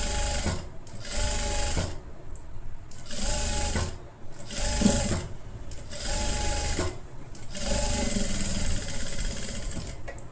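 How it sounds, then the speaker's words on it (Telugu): A sewing machine stitches a halter neck kurti in loud rapid runs of a few seconds each, broken by brief pauses between passes, close up with no talking. "మళ్ళీ దాని పక్క నుంచే ఇంకొక స్టిచ్ చేసుకుంటూ రండి"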